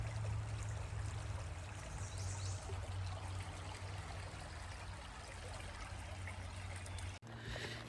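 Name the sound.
stream of water trickling by a hiking trail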